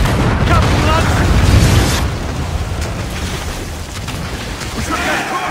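Cannon fire on a sailing ship in battle, a loud boom-like blast spread over the opening seconds, thick low rumble continuing beneath a noisy, crowded scene of shouting and commotion.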